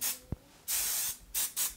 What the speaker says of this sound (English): Let's spray at the top part, okay?